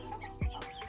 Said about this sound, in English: Bielefelder hen,